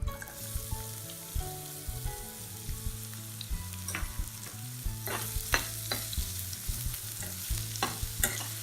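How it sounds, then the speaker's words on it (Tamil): Onions frying in about three spoons of hot oil in a kadai, a constant sizzle with a low hum beneath, and scraping stirs that grow busier toward the end; no one speaks. "முதல்ல இந்த வெங்காயத்தை போட்டுக்கணும்."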